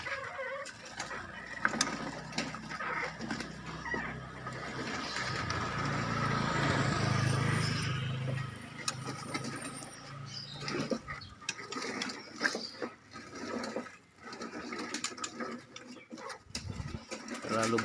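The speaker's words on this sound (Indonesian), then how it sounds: "Oke, kita semprot lagi." A water sprayer hisses over a hanging bird cage used for breeding magpie robins, spraying in long bursts with a rattling, mechanical texture, while a person talks at times between the sprays.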